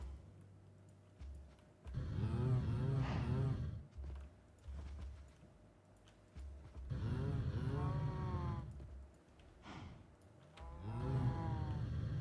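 A Lava Fluid Cow in the Minecraft video game moos three times, each call long and low with gaps of quiet in between, heard on its own with no talk.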